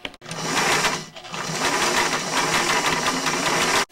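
A sewing machine under repair runs steadily while stitching, a dense continuous mechanical whir with rapid needle chatter, loud and close, briefly pausing near the start before running on without a break.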